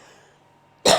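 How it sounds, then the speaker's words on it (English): A single loud cough bursts out near the end after a quiet stretch, close to the microphone. "A little bit of a cough there."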